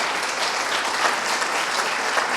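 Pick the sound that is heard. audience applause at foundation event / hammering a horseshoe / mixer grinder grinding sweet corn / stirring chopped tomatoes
audience applause at foundation event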